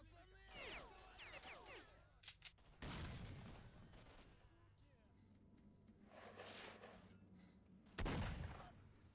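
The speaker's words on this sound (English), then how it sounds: "Yeah, I'm throwing a grenade." A grenade explodes in S.T.A.L.K.E.R.: Shadow of Chernobyl with a loud, sharp blast and rumble among bursts of gunfire, and a second heavy blast hits near the end.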